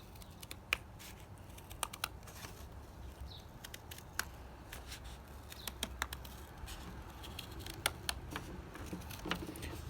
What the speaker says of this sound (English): now we're going to cut our hull panel